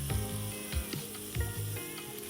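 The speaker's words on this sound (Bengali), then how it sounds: "একটু ভাজা হওয়ার পরে আমি এর মধ্যে মাশরুমটা দিয়ে দিচ্ছি" Mushrooms sizzle steadily in a pan while being fried for fried rice, with a few sharp scraping or clinking stirs breaking through the close, continuous hiss.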